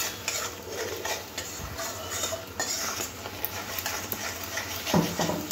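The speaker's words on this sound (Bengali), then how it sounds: "টমেটোটা কাঁচা গন্ধ যাওয়া অবধি টমেটোটা ভালো করে মশলার সাথে কষে নিতে হবে" Tomato and spices fry in a pan for a Bengali prawn and potato dish, a steady sizzle under repeated scraping and clinking of a spatula stirring against metal, close and unaccompanied by talk.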